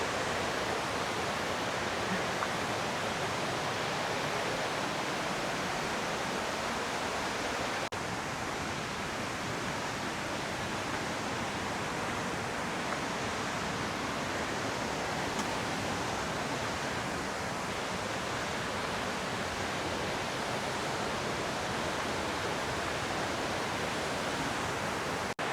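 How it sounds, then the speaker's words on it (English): Steady broadband rush of stream water flowing at a trail water crossing on the Middle Prong Trail, continuous and close, with no voices over it. "Water crossing."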